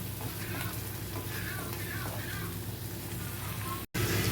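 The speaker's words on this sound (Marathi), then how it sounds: "मसाला, आता हे चांगलं परतून घ्यायचं." Ground masala for Kolhapuri chicken sukka sautés in a pan with a constant dense sizzle and soft stirring, close and even, cutting out abruptly near the end.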